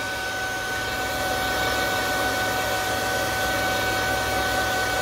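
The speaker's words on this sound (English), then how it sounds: "Just turn on my blow dryer for a hot second here." A hair dryer blows with a steady, loud airy roar and a faint whine, running unchanged from start to finish, drying alcohol ink.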